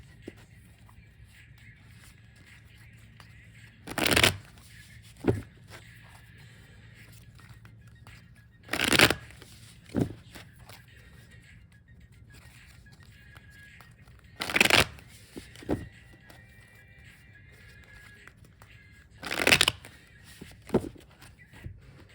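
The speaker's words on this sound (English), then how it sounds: "I will shuffle the first deck here just a few more times" Moonology Oracle tarot deck being shuffled in four brisk riffling bursts a few seconds apart, each with a quick follow-up tap, close up against a quiet room.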